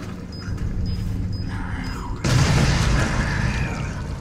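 A remote bomb explodes in Resident Evil 7 with a sudden loud boom that gives way to a rumbling blast and debris noise. Short beeps come before it, and there is no talking.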